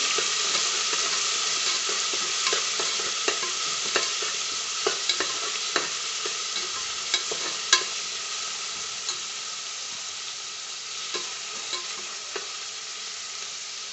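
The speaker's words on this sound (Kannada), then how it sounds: "ಅದನ್ನು ಹಾಕ್ತಾ ಇದ್ದೀನಿ ಇದೆಲ್ಲ ಚೆನ್ನಾಗಿ ಫ್ರೈ ಮಾಡ್ಕೊಬೇಕು" Finely chopped onion frying in a pan for tomato bath, with a continuous even sizzle and regular light taps and scrapes of a spoon stirring.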